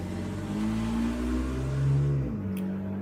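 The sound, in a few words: loud car revving as it drives past the house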